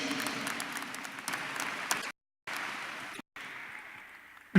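A church congregation claps and cheers in a broad, dense wash of applause that cuts out abruptly twice with short silences, then resumes at a moderate level.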